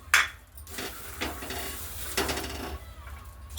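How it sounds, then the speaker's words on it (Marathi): Fresh green peas dry-roasted in a pan, with a close spatula scraping and stirring in a few uneven strokes over a light rustling crackle, moderately quiet. "आता याच तयार आपण हे मटार भाजून घेऊ"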